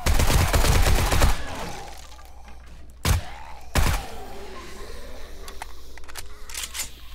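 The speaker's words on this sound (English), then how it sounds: "Man, this coil gun wrecks the regular zombies." Coil gun in 7 Days to Die firing at zombies during a horde fight, heard as a loud dense burst of rapid shots, then two sharp single blasts, with faint clatter and game ambience after.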